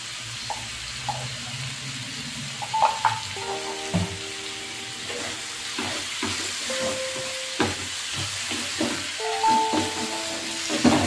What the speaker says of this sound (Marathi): ते थोडेसे परतून घ्यायच्यात आपल्याला, जेणेकरून याचा जरा कच्चापणा जाईल म्हणून